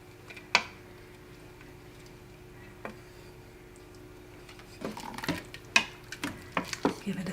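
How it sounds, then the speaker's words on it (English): Mushroom and wild rice soup gets stirred in an Instant Pot, with quiet scraping and a few sharp clinks of a spoon against the metal insert, scattered at first and then clustering into a busier run of knocks. "So we're going to just give it a stir."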